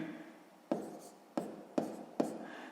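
A pen writes figures on paper during a sixth-grade maths exercise, with four distinct quick strokes following short pauses. Close, quiet and isolated, with no one speaking.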